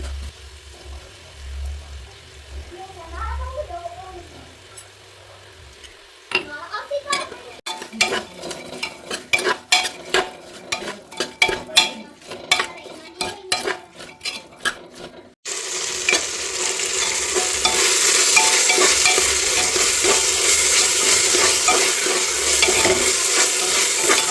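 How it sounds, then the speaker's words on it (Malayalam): Shallots and green chilies with salt are stirred in a pan, first with quiet scraping, then a dense clatter of spoon strokes, then a loud, steady sizzle close by. "ഇനി ഇതൊന്ന് നന്നായിട്ട് വഴറ്റിയെടുക്കാം"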